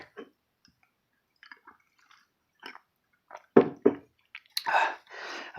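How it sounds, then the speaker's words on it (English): Someone takes sips of water close to the mic, with a few quiet slurps and swallows, a soft liquid splash, and a longer gulp near the end, all separated by near silence. "let me take a sip of water"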